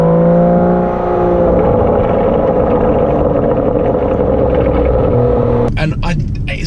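Aston Martin DB11 engine giving a deep, steady rumble as it comes down the revs, loud and close throughout, ending in a short rough burst of noise.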